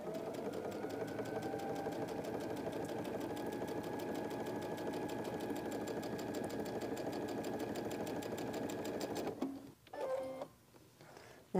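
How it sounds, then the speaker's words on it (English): A sewing machine stitching a flying geese quilt block runs in a steady, fast mechanical chatter for about nine seconds, then stops with a few brief clicks and handling sounds. "Then I'm going to turn it around and sew the other side."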